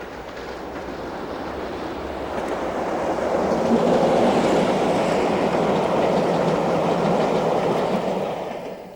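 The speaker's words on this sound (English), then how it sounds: "In flaming June, a newly reliveried 73 hauls the Queen of Scots." A newly reliveried Class 73 locomotive hauls the Queen of Scots train past, a steady rumbling roar of wheels on rails that swells to a peak and holds for several seconds.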